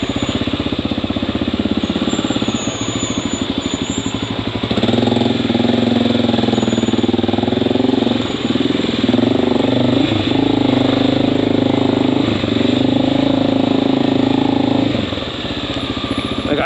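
Honda XR650L motorcycle engine running close by with a steady, loud thumping idle throughout, its rhythm and roughness shifting slightly partway through.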